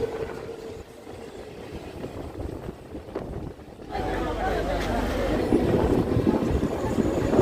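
Ranaghat-Sealdah local train pulling into Khardah station, a steady rumble and rattle of rolling carriages that grows louder partway through, heard from inside with background talk.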